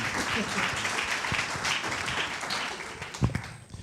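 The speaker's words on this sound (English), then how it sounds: "Let's give them a round of applause." A crowd at a book launch held at a golf club claps for a panel, with sustained moderate applause mixed with some voices and a sharper single clap near the end before it thins out.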